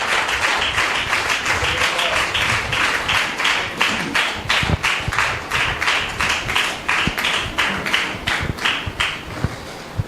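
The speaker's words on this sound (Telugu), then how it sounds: "మన చప్పట్లు కొడుతూ వారిని ఆహ్వానిద్దాం." Church congregation clapping to welcome guests at a pastor's service: loud, rhythmic group handclaps in a steady beat, sustained for the whole stretch.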